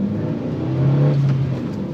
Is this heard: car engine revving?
yes